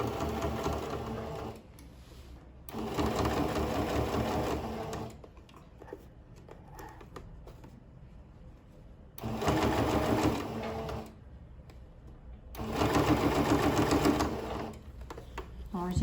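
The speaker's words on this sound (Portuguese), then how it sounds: "Eu vou começar a costurar aqui pelo fundo, tá?" A sewing machine stitches the bottom of a fabric knitting needle case in bursts, three or four runs of fast mechanical whirring separated by quieter pauses with faint handling sounds.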